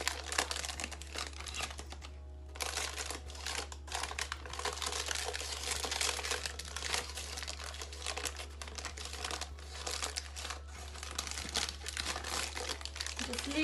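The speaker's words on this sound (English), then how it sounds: "I am just going to hold this and peel off the paper" Baking paper peels and crinkles off the base of a summer berry pavlova meringue, giving a continuous close, dry crackling and rustling with small sharp snaps, over a steady low hum.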